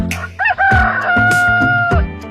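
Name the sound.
rooster crowing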